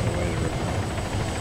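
A helicopter sets down during a military video game operation, its rotor and engine making a loud, steady, close drone that fills the whole stretch without a break.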